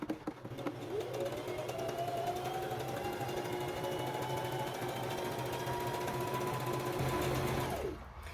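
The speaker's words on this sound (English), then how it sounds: "this machine will not let me go in reverse when I'm in overlocking mode" A sewing machine runs in overlocking mode, stitching a pajama seam in one continuous whirring burst that rises slightly in pitch and stops abruptly, close and moderately loud, with no talk.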